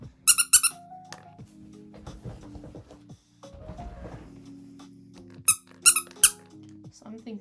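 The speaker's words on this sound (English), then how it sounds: "Oh, I forgot to put the squeaker in the nose." Squeaker toy meant for the nose of a handmade fursuit head, squeezed in quick bright bursts of several squeaks at the start and again near the end, with a voice talking in between.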